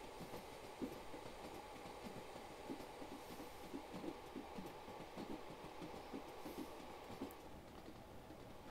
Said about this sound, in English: so we'll just stop the train at Haddisco